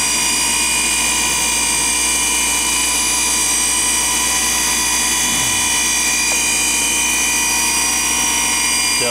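Spindle of a Unison DedTru 284-0000 centerless grinder running steadily, a constant high-pitched machine whine and hum with a faint low shift partway through; no talking.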